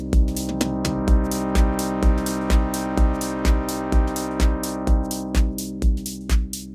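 House drums in Cubase 14 with an LFO sweeping the filter cutoff: a steady four-on-the-floor kick and hi-hats under a sustained synth tone whose brightness rises and falls, loud and alone.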